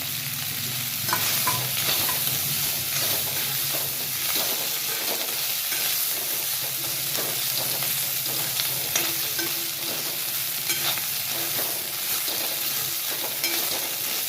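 Idli pieces with coriander shallow frying in a pan, a steady oily sizzle with a spoon stirring and scraping at intervals throughout, close and continuous with no talk.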